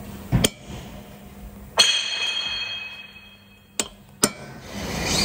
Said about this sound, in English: we've put our centre punching dot in here